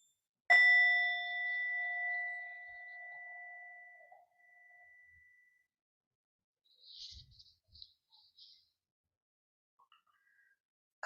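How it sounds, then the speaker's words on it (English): A meditation bell is struck once and rings out, its clear tone slowly fading over several seconds in a quiet room, with a few faint soft sounds afterward. "so here comes a bell."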